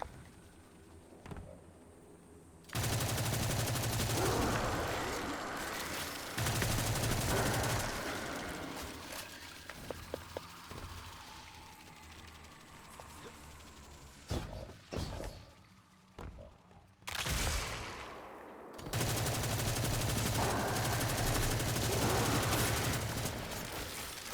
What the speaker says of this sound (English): I really like this auto rifle.